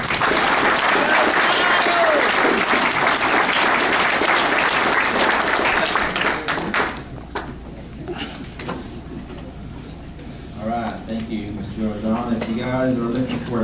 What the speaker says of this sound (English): So, give him all a round of applause.